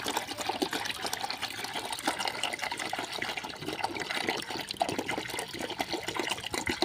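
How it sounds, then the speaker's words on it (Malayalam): Water pours steadily into a container, a continuous splashing gurgle that stays even throughout, with no talking. "ഇനി ഒരു ഒന്നര ലിറ്ററും കൂടി ഒഴിക്കണം"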